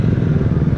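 A group of five motorcycles, including an RC390 and an NMAX, riding together, giving a brief, steady, close-up clattering engine drone.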